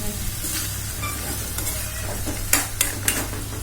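Small, delicate fish are stirred in hot oil in a pan, a steady close sizzle with a few clinks of the utensil against the pan near the end, and no talk.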